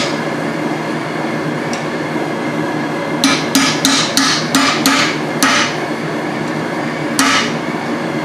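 Steady background noise in a blacksmith demo on forging tongs, with a quick series of sharp hammer blows on a chisel near the middle and one more strike toward the end. The hits are close and clear.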